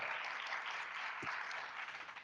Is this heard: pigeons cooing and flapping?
no